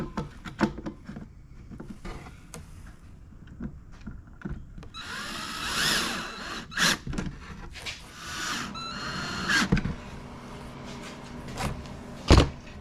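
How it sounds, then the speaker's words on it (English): A power drill whirs in several short bursts, driving screws, interspersed with clicks, knocks and handling noises, with one sharp bang near the end. "just feels more natural using a regular drill"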